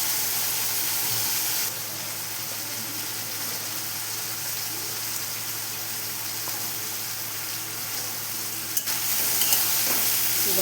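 Boiled peas fry in a pan with a continuous, fairly loud hiss and crackle, broken by a few scrapes of stirring, with no voices over it.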